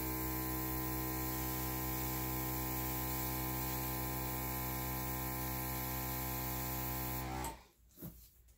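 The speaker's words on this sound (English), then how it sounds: "now I'm going to take my airbrush and define it" An airbrush sprays acrylic paint with interference pigments: a steady hiss over a low electrical hum runs for about seven seconds, then cuts off abruptly, leaving near silence.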